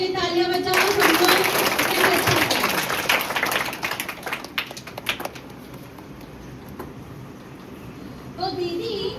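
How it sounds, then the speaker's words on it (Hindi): A classroom of schoolchildren claps for a classmate at a school health session, several seconds of quick, scattered clapping that tapers off, with children's and an adult's voices around it. "ठीक है चलो अमन के लिए तालियां बजाओ सबको।"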